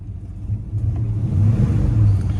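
A 1970 Chevrolet Chevelle Malibu V8 engine rumbles at idle and then revs up, a deep throaty roar swelling twice, close by with no talking.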